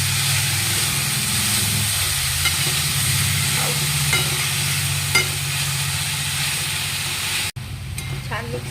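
Sprouted moong usal fries in a pan with salt and turmeric while being stirred, a steady sizzle with low burner hum and scattered spoon scrapes, followed by a short break and a person speaking.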